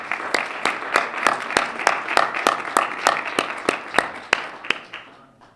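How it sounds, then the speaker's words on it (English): Guests at a STEM and innovation welcome reception applaud a senator's staffer: sharp, evenly spaced claps ring out over a softer crowd patter, then thin out and fade near the end. "give a round of applause to her staffer, Amanda Turner"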